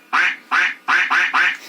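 A cartoonish duck quack effect blares from the horn sound system of a customized Moskvich demo car, four loud nasal quacks in quick succession, close and clear.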